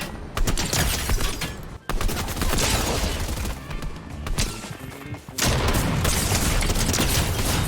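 Rapid bursts of gunfire from a shooter video game fill the scene, loud and continuous, broken by a few sharp pauses before the shooting picks up again.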